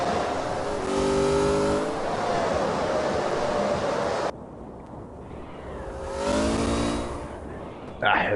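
A racing car roars at speed in the CarX driving game, its engine note holding high and steady, then briefly cutting out before revving and climbing again, loud and close.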